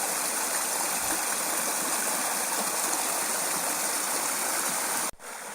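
A waterfall and stream at Healey Mill pour in a steady, dense broadband rush, loud and continuous with no talk, until it cuts off abruptly near the end.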